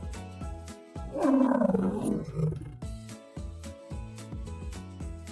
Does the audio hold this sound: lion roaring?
yes